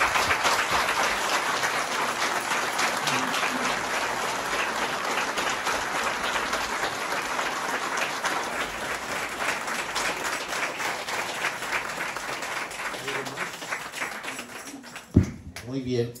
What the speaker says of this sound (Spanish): vamos a darle un fuerte aplauso de pie a la Santísima Virgen, Nuestra Señora de Fátima